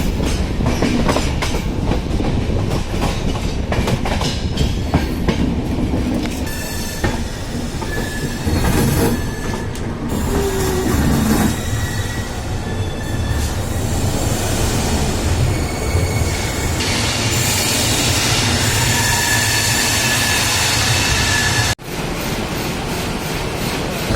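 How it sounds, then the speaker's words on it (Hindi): Sampoorna Kranti Express pulling into New Delhi railway station, with loud continuous rumble of rolling carriages, rhythmic wheel clatter over rail joints and brief wheel squeals, steady throughout and close by. "गाइस फाइनली हम नई दिल्ली रेलवे स्टेशन पर पहुंच चुके हैं"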